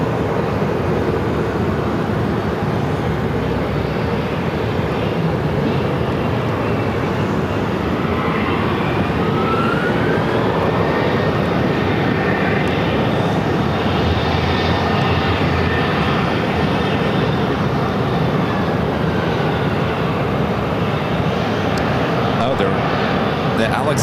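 An American Airlines A321neo jet arriving from Miami at Phoenix airport, a steady broad engine roar that holds for the whole stretch with a faint whine sweeping through the middle, while people talk nearby.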